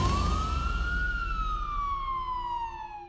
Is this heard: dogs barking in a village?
no